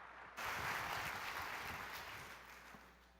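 An audience at a conference in León claps to welcome a speaker, a sudden burst of dense applause that holds steady and slowly thins, fairly distant in a large hall.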